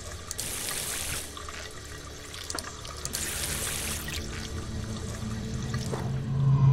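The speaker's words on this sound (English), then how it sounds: "I'd better rinse it off in the sink." Water runs steadily from a sink tap in the video game Silent Nights, rinsing yeast; a continuous, close, moderate trickle and splash with no one talking, growing slightly louder toward the end.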